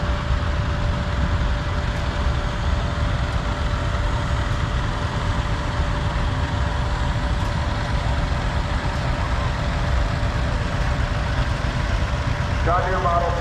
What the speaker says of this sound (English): Farmall Model A, owned and restored by Brad Wetzel out of Ph